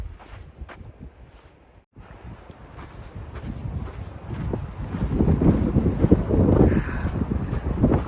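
Gusty wind buffets the microphone along a ridge trail above Washoe Valley near Mount Rose, a rough rumbling roar that dips briefly and then swells louder toward the end.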